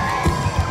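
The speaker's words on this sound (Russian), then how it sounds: "Ура, аплодисменты!" A large outdoor crowd at a Youth Day concert in Naryan-Mar cheers and whoops, loud, dense and close, with shouted bursts rising over a continuous roar.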